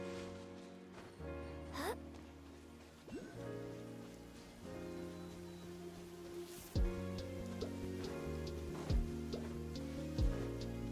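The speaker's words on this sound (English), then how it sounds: "I love listening to the rain from the courtyard" Rain falling in a courtyard in the video game Genshin Impact, a soft steady patter with scattered ticking drops, heard alone under occasional faint game chimes and effects.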